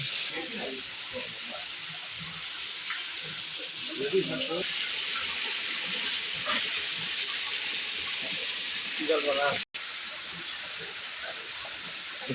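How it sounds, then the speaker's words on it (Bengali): Water runs steadily into a fish hatchery tank, a continuous close hiss and gush that lasts the whole stretch, with a brief drop-out near the end. "ওটা পানিটা ভরতেছে"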